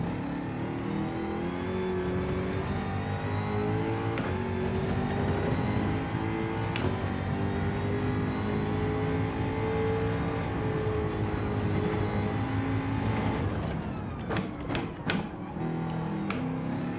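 A racing car engine in Gran Turismo 7 drones steadily at high revs, its pitch rising and falling slightly through gear changes, with a few sharp clicks and bumps near the end as the sound dips briefly.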